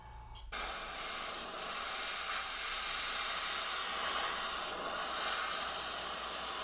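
Dirty, poorly working airbrush spraying paint, a steady close hiss that starts abruptly and continues evenly throughout with slight fluctuations.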